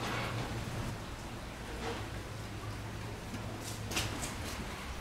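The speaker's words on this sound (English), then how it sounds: "It's a horrible rainy day." Steady rain falls on a gloomy, wet day, a constant dense patter with occasional louder drops, heard alone and close.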